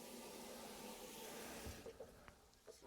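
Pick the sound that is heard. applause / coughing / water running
water running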